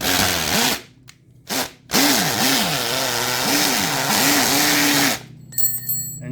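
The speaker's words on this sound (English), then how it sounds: "when you go and drill concrete, now you hear that little pounding" A hammer drill pounding as it bores into concrete: a loud, close, rough grinding roar with a wavering, buzzing pitch, broken by two brief pauses and stopping near the end.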